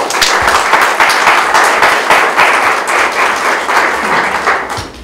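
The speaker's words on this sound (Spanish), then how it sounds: "con un fuerte aplauso" An audience at the opening of a night-of-museums event breaks into loud, dense applause that holds steady throughout.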